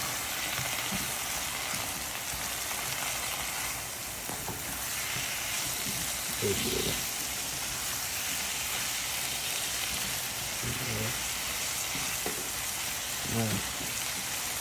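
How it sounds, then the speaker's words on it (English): Shrimp taco filling seasoned with Old Bay, black pepper and salt fries in a pan with a steady, dense sizzle, broken by a few brief stirring scrapes. A single word is spoken briefly. "I'm gonna give that a stir."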